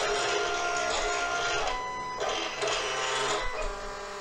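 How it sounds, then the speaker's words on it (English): A Silhouette Cameo 4 cutting machine whirs and clicks steadily while scanning registration marks for a papercraft cut, a continuous mechanical hum with small shifts in tone, close and alone. "I'm gonna go ahead and send it to the machine."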